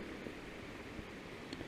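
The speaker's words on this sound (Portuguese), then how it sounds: "Só ouvindo o barulho" A small waterfall produces a faint, steady broadband rush of falling water, continuous and even with no other distinct sounds.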